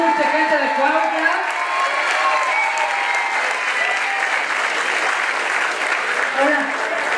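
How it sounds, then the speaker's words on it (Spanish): A crowd at a Pride march in Cuernavaca applauds steadily throughout, with voices and cheering mixed into the clapping outdoors. "Los aplausos que se escuche, gente de Cuernavaca"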